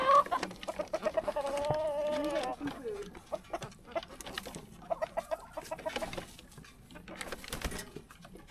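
Chickens cluck and murmur continuously in a farm pasture, with soft overlapping calls close by and a person's voice speaking briefly over them.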